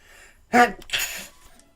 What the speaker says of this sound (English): because apparently I'm sneezing like hell right now